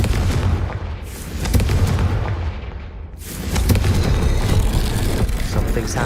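A Confringo fire spell blasts in Hogwarts Legacy, producing booming explosive bursts that swell, fade, and return as a second loud, rumbling blast within dark corridors.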